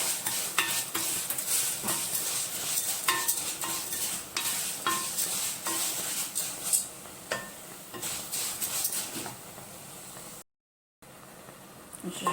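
Rice with vermicelli stirred and heated in a pot, with repeated scraping spoon strokes over a soft, steady sizzle, close and alone.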